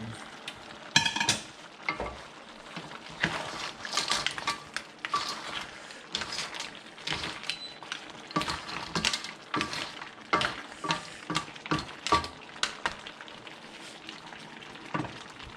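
Mussels and shrimp sizzle loudly in a hot pan while being stir-fried for a chili seafood dish, with steady crackling and repeated scraping and clanking of a utensil against the pan throughout.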